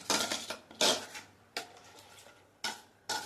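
Turmeric and spices for paneer masala being stirred together in a pan produce several separate bursts of spoon scraping against metal, close and crisp with quiet gaps between, and no one talking.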